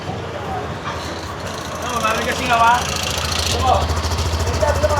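A tuk-tuk engine, just fitted with a newly welded exhaust and an upgraded battery, runs at a steady knocking idle close by, with people talking over the running engine.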